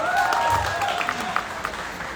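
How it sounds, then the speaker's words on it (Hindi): Loud applause from the audience at a press conference for the film Pathan, steady clapping filling the room under faint voices for a couple of seconds. "इसलिए जोरदार ताली होनी चाहिए।"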